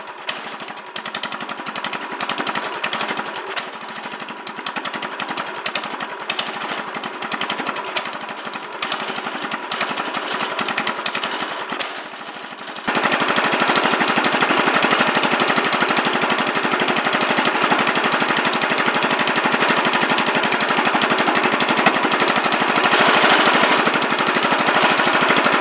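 A Predator 212 small engine fitted with 18 lb valve springs runs loud and close, first with a rapid uneven chattering beat, then settling into a denser, steadier hard roar.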